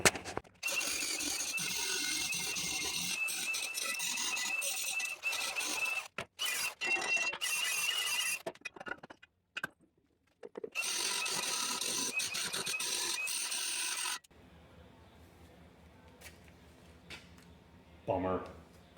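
Burrs being cut and ground off the edges of a repaired step on an International Harvester 986 tractor: long harsh, loud mechanical bursts broken by short pauses, ending in a quieter stretch with a brief final burst.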